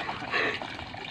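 Water trickles and drips close by from a hand water pump, a brief, fairly loud splashing dribble with no clear talk.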